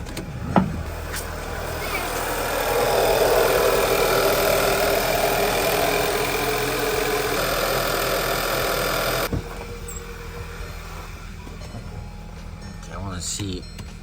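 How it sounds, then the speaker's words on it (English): A car engine idles after an aftermarket PCV valve install, a steady rough hum that swells after a few seconds and then drops to a quieter, lower idle, with a faint background voice. "Time to start it. All right, guys, moment of truth. Let it idle out."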